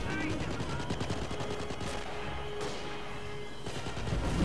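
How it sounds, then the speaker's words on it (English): Mortar fire in the World War II strategy game Company of Heroes, played in a 3v3 match: dense, continuous crackle of gunfire and blasts under a steady battle din, with a voice briefly present. "There we go, mortar shot."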